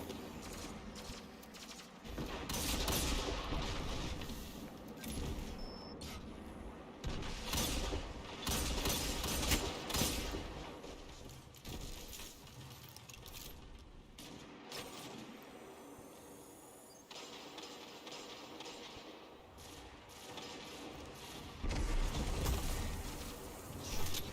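Weapon fire from a Destiny 2 Crucible PvP match: irregular bursts of sharp, loud shots and clattering game effects come in clusters across the whole stretch, with no talk.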